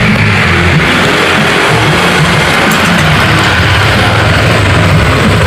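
A Honda Vario 150 scooter with wiring shorted out by rodent damage runs loud and close, a steady engine drone that fills the whole stretch.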